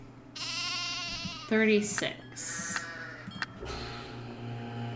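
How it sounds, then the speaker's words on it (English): Several sheep bleat in Nancy Drew: The Haunting of Castle Malloy, a few loud, wavering calls in short succession mixed with game sounds while a person talks over them. "another very calm sheep"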